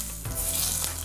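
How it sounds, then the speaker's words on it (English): Hot oil hisses as it is poured over raw chopped tomatoes and onions for Fijian-style tomato choka, a close, steady sizzle that lasts for about a second with no talking. "And now you just want to pour that hot oil over the tomatoes and the onions."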